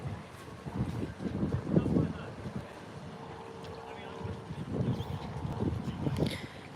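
Strong wind gusts buffet the microphone outdoors under a bridge beside the river at Potter Heigham. The low rumbling swells rise and fall in waves, mixed with a person talking.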